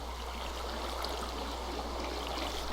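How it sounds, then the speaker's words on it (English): Steady rain in the Minecraft modpack Agrarian Skies 2, a dense, even hiss of falling water that runs unbroken and fairly loud throughout. "with it raining, our barrels are filling up with water"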